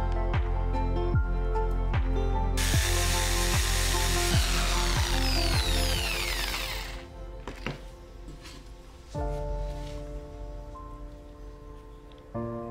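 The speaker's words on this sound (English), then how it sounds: "I drill the mark using my DIY drill guide." A power drill bores into wood through a DIY drill guide, a steady close whine with a rhythmic ticking and a harsher grinding burst midway, then winding down and spinning up again.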